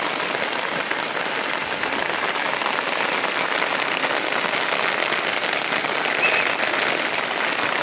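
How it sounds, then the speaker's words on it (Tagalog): Heavy rain pours steadily in the Philippines, a dense, unbroken hiss of drops on surfaces that stays loud and even throughout, with no voices. "At lumalakas naman yung ulan"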